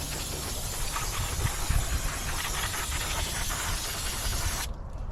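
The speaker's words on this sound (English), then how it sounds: "Brake parts cleaner will clean it and dry it really quick." Brake parts cleaner sprays in a steady broadband hiss during tractor repair work, continuous for several seconds and cutting off abruptly near the end.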